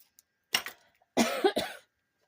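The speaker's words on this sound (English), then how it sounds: "I'm sorry about coughing" A person coughs close to the microphone, one short cough followed by a quick burst of two or three more, with silence before and after.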